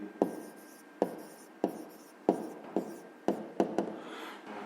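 Handwriting with a pen on paper while working a fifth-grade math exercise, a series of close, distinct taps and short scratching strokes at an uneven pace, with no talk.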